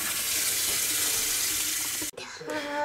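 Steady running water rinsing at a sink after shaving with a Braun Series 7 electric shaver, a continuous hiss that cuts off briefly near the end before resuming.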